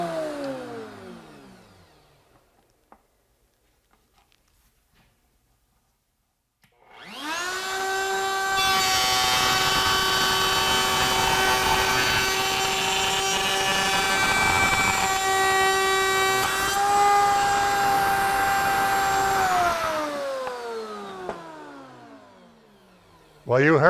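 A router table used as a jointer cuts along a board edge, a loud steady high whine of the spinning bit lasting about twelve seconds before winding down, after a motor spin-down at the start.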